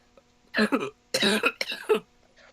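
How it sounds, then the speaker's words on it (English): Several harsh, bursty coughs from a player during a Dungeons & Dragons session, close to the mic and loud, in three quick clusters with short quiet gaps between. "I got a bit of a bad cough."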